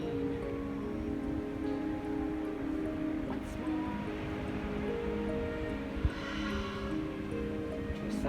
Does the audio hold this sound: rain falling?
yes